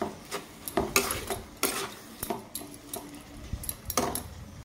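Clattering metal kitchenware as a lid goes onto a pot of oats and a cup of water, a series of sharp clinks and scrapes, close and fairly quiet, with no talking.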